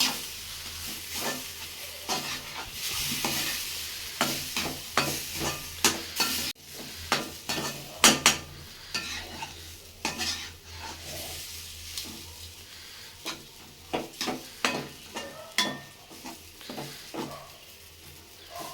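A spoon scrapes and stirs fine semolina in a pan over the stove for upma, with a steady series of soft, gritty strokes over a low background hiss. No one speaks.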